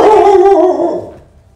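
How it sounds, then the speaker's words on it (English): Pet dog named Oliver barking indoors, a single loud close bark that trails off into a brief whine-like fade, with no talking over it. "sorry, my dog, Oliver."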